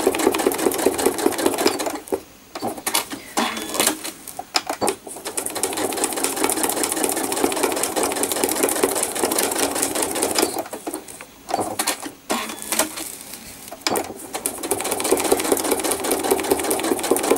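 A sewing machine stitching thread art from a photo runs in fast, steady bursts of rapid needle clatter, close and loud, with brief pauses between runs and no talking.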